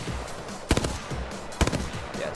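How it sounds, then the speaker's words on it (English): Two sharp gunshots at a firing range, a gun fired from the hip, cracking out about a second apart over steady background noise, fairly close and loud. "You gotta hip fire this one right here."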